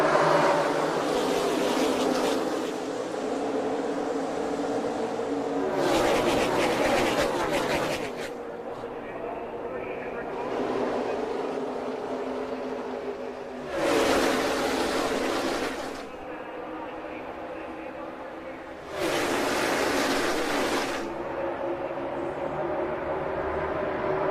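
Stock cars roaring at the start of the Daytona 500, a loud continuous engine drone with waves of cars surging past in several bursts, under an excited commentator's voice.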